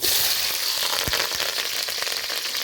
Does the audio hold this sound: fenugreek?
yes